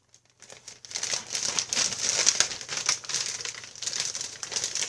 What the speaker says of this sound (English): I have some in a Ziploc baggie that's already been opened